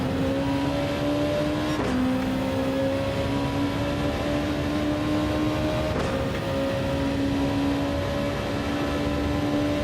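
Race car engines in Gran Turismo 7 drone loudly and steadily, the pitch climbing slowly through two brief gear-shift dips, with a constant close, humming roar and no talking.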